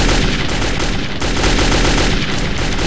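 Rapid, dense gunfire from the Metro 2033 video game, loud and continuous with bursts that sound like automatic weapon fire, with no talking over it.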